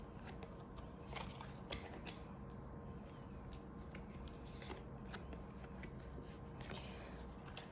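Tarot cards being shuffled by hand, a steady run of soft riffling and slapping card sounds at close range over a constant low background hum, with no voices.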